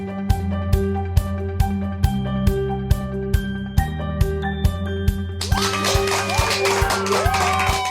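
A studio audience breaks into dense applause over rhythmic music with a steady beat, the clapping swelling in over the last few seconds.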